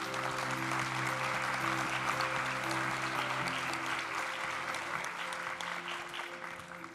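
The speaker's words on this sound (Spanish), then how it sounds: "un fuerte aplauso." Steady applause fills a graduation ceremony hall as a crowd claps for new theology graduates, dense and sustained before easing slightly toward the end.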